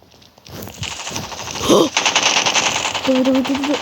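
Rapid automatic gunfire from a first-person shooter video game, loud and close, with bursts running into a sustained rattle and a short tonal game sound near the end; a voice speaks briefly over it.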